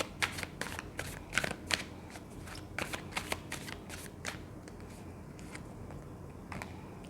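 Tarot cards shuffled by hand in a rapid series of crisp riffling bursts and soft slaps, close and fairly quiet, with no talking.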